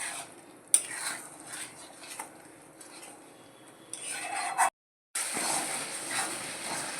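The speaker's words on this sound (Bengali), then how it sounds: "এখন ভালো করে কষাতে হবে।" Spatula stirring and scraping Bombay duck fish frying in a pan, with intermittent metallic clinks and scrapes over a soft sizzle, one sharp clank early on and a brief gap near the end.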